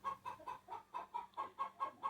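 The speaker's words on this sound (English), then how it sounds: "my backyard chickens are happy" Backyard chickens cluck in a steady, rhythmic series of about ten short calls, faint and somewhat distant, with no talking over them.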